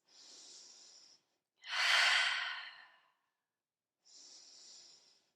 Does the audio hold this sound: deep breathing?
yes